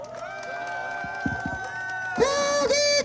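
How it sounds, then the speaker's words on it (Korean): Crowd cheering and applause at a final outdoor election campaign rally in Seogwipo, rising into a loud burst near the end with whoops over a sustained roar of the gathered supporters. "여러분 큰 박수 부탁드리겠습니다."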